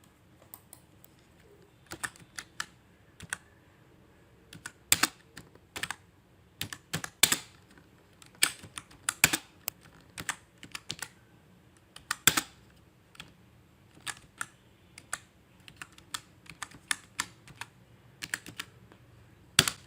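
Keystrokes on a computer keyboard typing a short form message, clicking in quick irregular bursts with brief pauses between runs, close and clear in a quiet room with no talking.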